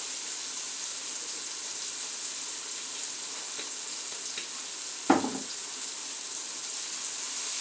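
Vegetables sizzle in garlic-flavored olive oil for a homemade pasta sauce, a steady close frying hiss throughout, with a few light clicks and one sharp utensil knock midway.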